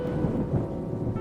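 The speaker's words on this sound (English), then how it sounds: "the thunder began rumbling loudly" Low, continuous rumbling thunder with a rain-like wash rolls through a rainy-night horror story scene, steady and fairly loud, with no voices over it.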